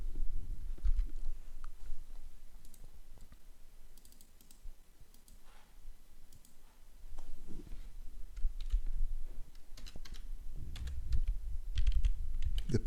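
Close, steady typing on a computer keyboard as a username is entered, with irregular clicky keystrokes and short pauses throughout, alone without speech.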